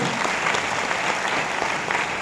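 Steady, dense applause from an audience gathered in a hall, sustained evenly throughout with no breaks.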